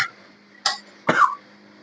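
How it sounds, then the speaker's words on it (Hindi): Two short, sharp coughs close by, a brief pause between them, in otherwise quiet surroundings. "माजरत, मुझे खांसी लग गई"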